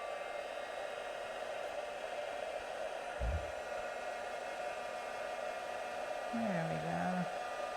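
A heat tool used for craft embossing blows a steady, loud whir from start to finish, with a brief knock and a short spoken phrase over it.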